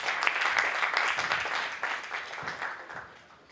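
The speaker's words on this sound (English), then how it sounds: "A huge round of applause for our curator." Audience applause for the curator at an architecture and interiors design debate in Pune, a steady burst of many hands clapping that tapers off toward the end.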